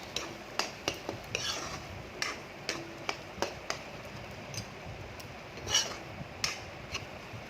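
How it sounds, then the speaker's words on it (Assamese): Lentil dal fries with spices in a pan for an Assamese-style mixed dal, a low sizzle beneath repeated crisp taps and scrapes of a utensil stirring against the metal at a loose, irregular rhythm. "দালিখিনি মই মছলাৰ লগত অলপমান সময় ভাজি ল'ম"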